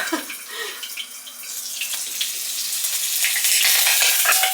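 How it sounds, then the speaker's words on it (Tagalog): Cooking oil sputtering and hissing in a frying pan, a steady loud broadband sizzle that swells slightly over time, with scattered pops and a faint clink near the end. "Lumalaban ang ating mantika."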